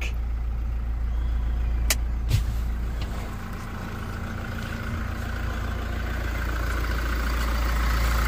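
A 2023 Toyota Hilux Single Cab 4x4 pickup engine idles steadily nearby with a low, even rumble, a couple of brief clicks early on, and no talking.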